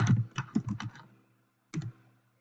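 Keys on a computer keyboard are tapped for a password: a quick run of about six close clicks, a pause, then one more keystroke, alone and fairly quiet.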